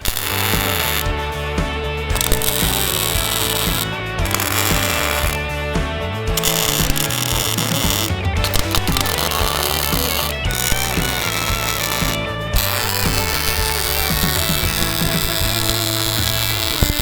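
Tack welding of trailer D-ring parts, a loud continuous crackling buzz broken into bursts by brief pauses between tacks, close up with no talking.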